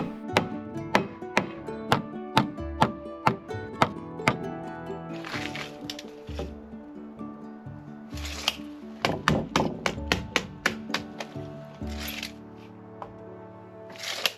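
Hammering nails into wooden stair stringers and their metal hardware on log cabin front steps, heard as a quick run of sharp ringing hammer strikes, then a pause, then more clustered strikes and a few scuffing handling noises.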